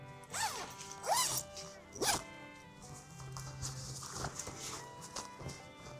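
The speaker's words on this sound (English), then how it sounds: "I'm going to take off this bug net now" A zipper being drawn open along the bug net of a Hammock Gear Circadian Pro hammock, several quick rising zip strokes close up, followed by rustling of fabric as the net is handled.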